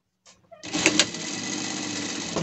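A sewing machine stitches a seam on a leather pet harness, starting after a few light clicks and then running steadily and loudly for nearly two seconds.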